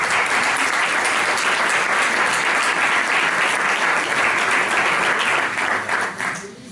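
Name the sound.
audience applause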